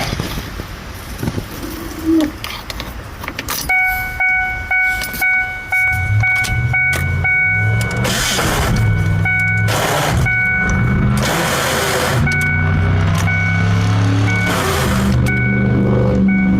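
Ford Ranger 4.0 engine being cranked in neutral, a loud starter whirr in repeated bursts with pauses between them, mixed with a steady electrical whine and some clunks and handling noise before the cranking begins.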